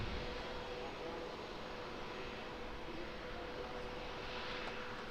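A plane landing at Auckland Airport produces a steady, faint, distant roar of engine and wind noise that stays even across the whole stretch.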